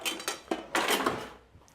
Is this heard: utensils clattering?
yes